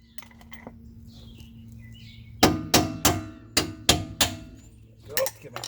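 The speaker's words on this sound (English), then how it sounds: "There, a few taps of the hammer." A hammer taps on a Jeep Cherokee lift kit part, half a dozen sharp metallic knocks in an uneven rhythm after a quiet stretch with faint birdsong, then a final pair of quicker taps.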